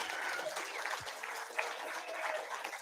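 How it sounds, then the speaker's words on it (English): An audience at the React Norway conference in June 2023 claps, a quiet, even patter of many hands heard from a distance for a few seconds. "you're gonna have to clap again"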